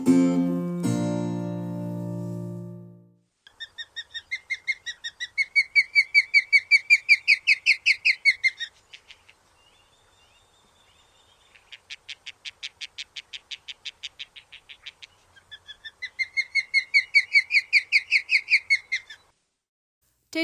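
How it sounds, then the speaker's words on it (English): Osprey calls in two long bursts of rapid, high, whistled chirps separated by a near-silent gap, each series rising and fading, preceded by a few seconds of low tonal sound, with no talk. "This week's bird is an osprey."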